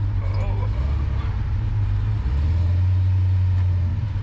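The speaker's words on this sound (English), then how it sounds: "Park the car right here." A 1957 Chevy 150 engine idles with a loud, steady low rumble as the car parks in a driveway, its drone shifting slightly in pitch near the end.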